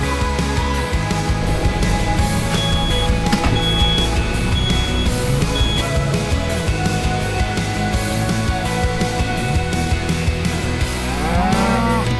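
Beef cattle lowing in a grazing field, with several loud, drawn-out moos overlapping one another at close range over a steady background hum, and no talk.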